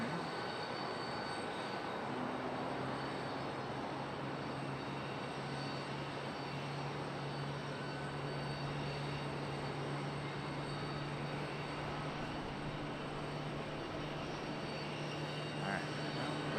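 A plane arriving at Charlotte Douglas airport sends a steady, distant engine roar across the airfield, low and continuous, with a faint hum underneath.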